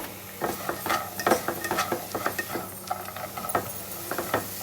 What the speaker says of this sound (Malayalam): ഇതിലേക്ക് കുറച്ച് ഉപ്പിട്ടിട്ട് ഒന്ന് വഴറ്റി കൊടുക്കുക.